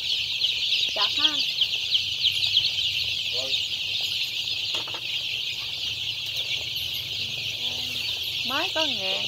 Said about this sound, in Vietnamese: Mới có 1000 con gà.